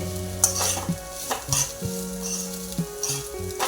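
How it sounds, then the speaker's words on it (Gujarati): Grated green coconut roasting and being stirred in a pan over low heat, with a steady sizzle under repeated scraping strokes and light clinks of a utensil against the pan. "છીણ છે એને આપણે શેકવાનું છે લીલું નાળિયેર આપણે થોડો બ્રાઉન કલર કરવાનો છે"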